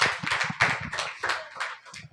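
An audience claps for the children at a church Christmas service: a short run of rapid, uneven handclaps swelling in bursts, fairly close and loud, with no talk.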